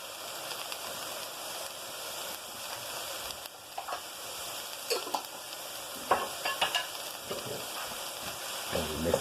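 Leftover turkey is stirred into a sauce base in a pot, with a low bubbling simmer broken by several spoon scrapes and clinks against the pot toward the end.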